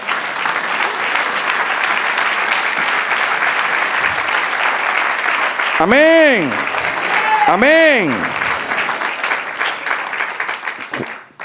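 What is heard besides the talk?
congregation applause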